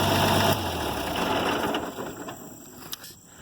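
A Farmall 706 tractor with a hydraulic leak idles close by, a steady low mechanical drone that drops slightly in loudness after the first half second and runs on unevenly, with a faint click near the end.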